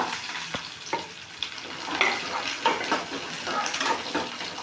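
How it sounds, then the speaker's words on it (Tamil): Garlic cloves and curry leaves hit hot oil for a Tamil garlic kuzhambu, giving a lively close sizzle with bursts of crackling and the scrape of stirring, moderately loud, with no talking. "பூண்டும் கருவேப்பிலையும் போட்டுக்கலாம்."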